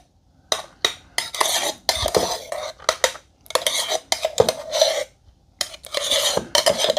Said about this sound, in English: So we're gonna spoon this out